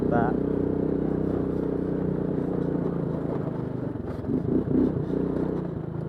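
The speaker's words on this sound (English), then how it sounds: "That push rod engine, 500cc or 499cc push rod engine is definitely a little noisy" A Bombardier Traxter 500 ATV's 500cc pushrod engine idles with a steady rattly drone, close and continuous, with a few clattering knocks partway through.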